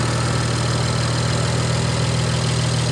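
A 2008 BMW 335i E90, modded and tuned, idles with a steady, even low rumble heard close up from the engine bay, with no talk over it.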